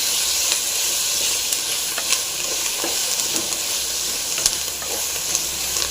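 Curry leaves and coriander sauté in a pan for a herbal kuppaimeni soup, giving a steady, close sizzling hiss with light clicks of stirring scattered throughout and no talk.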